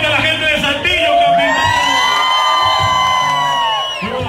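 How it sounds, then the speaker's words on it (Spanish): Concert crowd at the Sociedad Manuel Acuña in Saltillo shouting and cheering, a loud sustained roar of whoops and yells that swells and then fades slightly toward the end. "¿Y cómo grita la gente de Saltillo"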